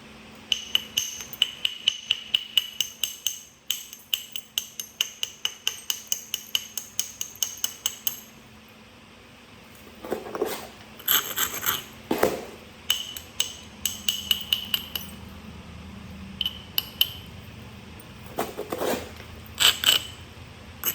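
A Clovis-style arrowhead of Flint River chert is struck during flint knapping: quick runs of sharp, ringing taps, then a pause and scattered heavier strikes and scraping, all close and clear.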